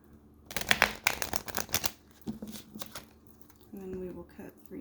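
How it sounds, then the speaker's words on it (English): A tarot deck being shuffled by hand, a run of quick riffling card flutters and soft slaps close to the microphone, with a voice briefly heard near the end. "Doing our shuffle here."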